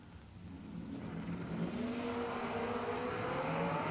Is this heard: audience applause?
no